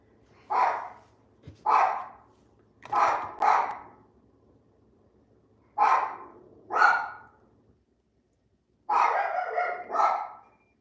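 A dog barks in short paired bursts, several sharp barks spaced across the clip with brief pauses between them, fairly close and clear with no talking.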